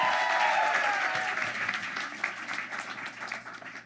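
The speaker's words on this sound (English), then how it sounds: "Give yourselves a round of applause for making it out tonight" Live audience at a podcast show in Vienna, Virginia breaking into loud, dense applause that fades gradually over a few seconds with scattered claps and cheers.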